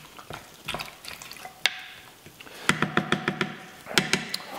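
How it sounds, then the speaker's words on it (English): Beef stew ingredients are stirred in a pot, with irregular scraping and clattering spoon knocks that come in bursts, loudest near the end, and no talk. "So we'll mix that all up in there."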